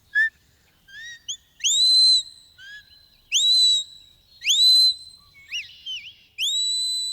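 A sequence of sharp, high-pitched human sheepdog herding whistles, some rising and some falling, given in short bursts with pauses between them, loud and close.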